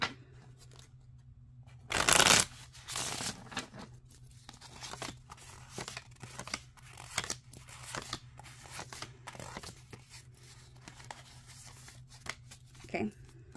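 Tarot cards shuffled by hand, a loud riffling burst early on followed by softer, intermittent card rustles and taps close to the microphone, with no talking.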